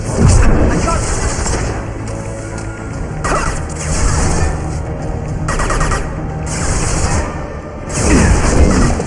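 Gunfire and booming impacts in the video game Mass Effect 2, sustained bursts and crashes mixed with game sounds and a voice talking over the loud, dense combat.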